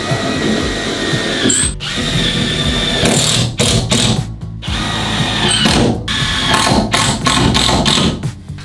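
A power drill drives screws into ceiling panels of an off-grid cabin, loud and close, its motor whirring in sustained bursts broken by brief stops and ratcheting clicks as each screw seats.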